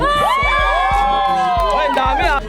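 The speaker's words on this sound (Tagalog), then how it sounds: "Sumigaw ang mga gustong manalo si ating naka-red." A crowd shouting and cheering at a neighbourhood barangay game show for a contestant wearing red; loud, close, sustained whooping and cheering with overlapping voices and rhythmic thumps.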